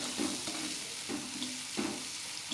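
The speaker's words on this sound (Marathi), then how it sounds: "असं परतून घ्यायचं सगळं." Bitter gourd tikka masala sautéing in a generous amount of oil, a steady close sizzle with a few soft stirring scrapes recurring at roughly half-second intervals, no voices.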